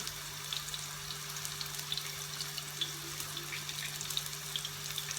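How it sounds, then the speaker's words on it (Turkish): Green peppers fry in hot oil in a home kitchen while meatballs are being made. A soft, steady sizzle is sprinkled with small crackles over a low constant hum. "Onları yağım soğumadan hemen içine atayım. Onlar da kızarsın arkadaşlar."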